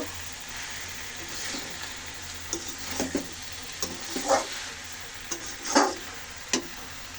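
Onions and coriander leaves fry in a pan with a faint background sizzle, broken by several sharper scraping and clinking stirs that come in uneven bursts close by.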